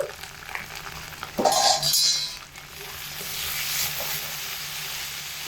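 Spice masala being sautéed in a pan for a potato and omelette dish as tomato sauce is added, a continuous hissing sizzle with a brief louder burst early on, then an even, crackling fry.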